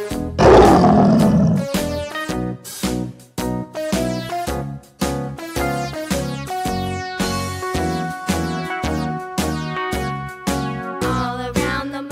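A loud lion roar bursts out near the start, brief and growling, then gives way to a bouncy children's tune with steady plucked notes continuing to the end.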